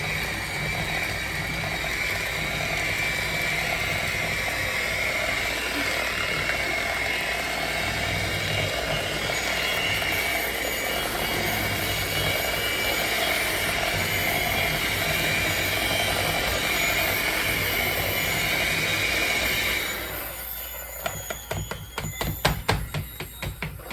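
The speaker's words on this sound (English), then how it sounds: "So now we'll get our mixer back" Electric mixer whirs steadily and loudly for about twenty seconds with a mechanical gear-like drone, then drops to rapid rattling clicks near the end.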